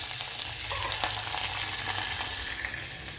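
Green chilies frying in a pan for a cucumber chicken curry, a steady close hiss and sizzle of hot oil with faint crackles and a few light stirring clicks, no talking.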